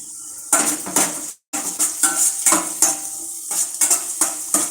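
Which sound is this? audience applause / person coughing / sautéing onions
sautéing onions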